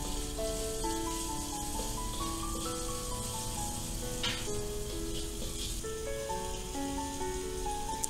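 Shrimp fried rice ingredients sauté with salt in a hot pan, a continuous crackling sizzle under steady melodic background music, with no speech.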